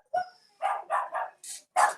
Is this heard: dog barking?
yes